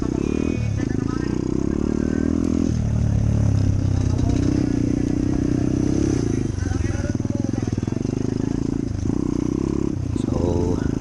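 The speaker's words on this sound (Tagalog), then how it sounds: "Ang gadakal na motor." Several enduro and motocross motorcycles rev and roar close by at a farm festival trail race, engines rising and falling steadily, with people talking over the engine noise.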